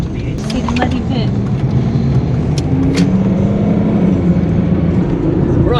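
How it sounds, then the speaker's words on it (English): Car turning around in a seriously muddy field on Lundy Island during a storm, engine running steadily and close throughout, with wind noise and a few brief knocks. "at least we got a car we can turn around in a seriously muddy place though"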